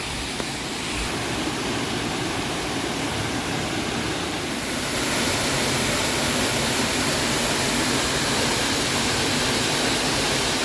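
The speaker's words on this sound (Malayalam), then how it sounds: "അവിടെ ഒരു മൂന്നാല് വെള്ളച്ചാട്ടം ഉണ്ടെന്ന് തോന്നുന്നു" Brimoor Mankayam waterfall in forest, a steady loud rushing roar of falling water that fills the whole clip without pause, growing slightly brighter partway through, with no voices.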